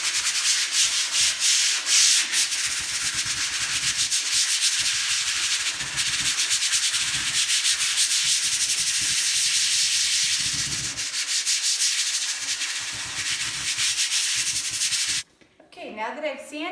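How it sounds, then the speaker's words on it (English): Sandpaper rubs steadily across a melamine surface, a loud, continuous scratchy rasp with uneven strokes that runs unbroken before stopping abruptly near the end, followed by a brief quieter moment. "Now that I've sanded"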